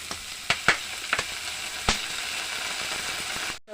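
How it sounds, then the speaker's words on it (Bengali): Maggi noodles are stirred in a pan with soy sauce and tomato sauce, giving a steady sizzle with a few sharp utensil scrapes and clinks against the pan, close and fairly loud, with no talking. "এবারে মিশিয়ে নিচ্ছি"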